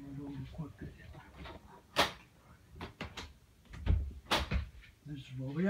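A room door is closed with several dull knocks and a couple of sharp clacks, scattered unevenly among quiet handling noise, with a voice talking in between.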